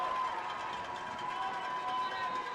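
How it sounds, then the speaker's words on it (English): A short, steady burst of loud crowd noise at a high school football game between Texhoma-Goodwell and Talihina, with talk mixed in under it. "You can hear the crowd, they're deafening."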